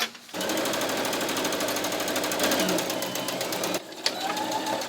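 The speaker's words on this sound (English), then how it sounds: "I got a little carried away with sewing" A home sewing machine stitches fabric for a toddler's band uniform, running in a steady, rapid mechanical whir close by for several seconds before briefly stopping and starting again.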